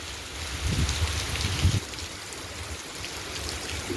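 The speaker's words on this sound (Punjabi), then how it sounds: "ਦੇਖੋ ਮੀਂਹ ਪੈ ਰਿਹਾਗਾ" Rain falls steadily in a park in Samana as a broad, even hiss that holds through the whole stretch, with a brief low rumble early on and no voices.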